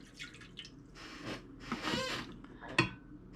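A quarter cup of water poured into a bread machine pan while making cinnamon roll dough, a soft splashing trickle in bursts with a brief louder splash near the end, close and fairly quiet.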